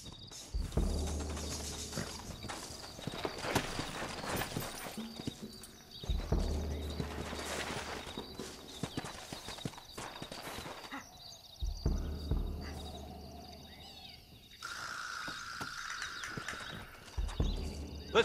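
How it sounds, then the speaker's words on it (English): Horse hooves clip-clop in a galloping rhythm during a Western video game set in Red Dead Redemption, loud and close in repeated bursts, with crickets and insects faintly in the background and brief voices in between. "Looks like Carlos left us some horses."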